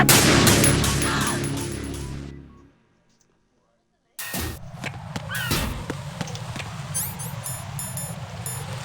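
Bursts of gunfire aimed at the Harrier jet in Metal Gear Solid 2. A dense volley fades into silence, then sharp individual shots crack over a steady engine drone, with a voice talking.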